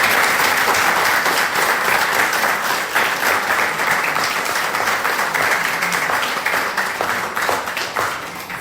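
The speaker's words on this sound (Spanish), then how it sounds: "creo que sería bueno tomar una pausa para hacer un aplauso para las hermanas, para la comida que hemos disfrutado" A large church audience bursts into sustained, dense applause for the sisters who prepared the meal, steady and loud throughout with no voices over it.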